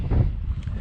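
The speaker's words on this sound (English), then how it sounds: "sorry about the wind" Wind buffeting a microphone outdoors near a 65 horsepower tractor, a brief low rumbling gust that blusters loudly, then eases to a steadier roar.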